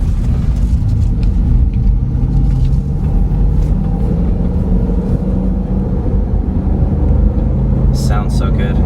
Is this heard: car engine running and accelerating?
yes